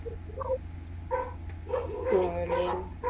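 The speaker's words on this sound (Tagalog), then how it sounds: "tahol lang asong narinig ko" A dog barks and yips in several short, uneven bursts behind the low, steady hum of a live radio broadcast.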